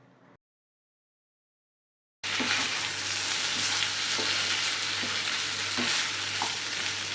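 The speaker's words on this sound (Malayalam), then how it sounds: "സോസ് എല്ലാം ചേർത്തതിന് ശേഷം നന്നായിട്ട് മിക്സ് ചെയ്ത് കൊടുക്കണം." Ginger chicken and sauce are stirred in a frying pan. After a brief silence, a steady, close sizzle begins, with occasional scraping strokes of the spoon and no speech.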